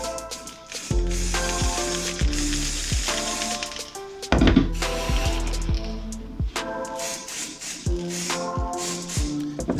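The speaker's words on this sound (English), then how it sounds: "Got some spray primer, just priming it." A spray can of primer hisses in short bursts onto a custom PlayStation controller stand, with loud rhythmic background music throughout.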